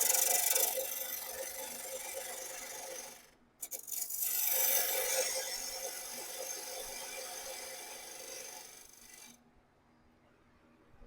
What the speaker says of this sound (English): this is the Rockler parting tool